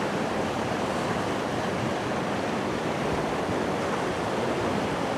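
Steady broadband rush of a trout river flowing, continuous and fairly even, like water running around a pocket mid-stream, with no voices.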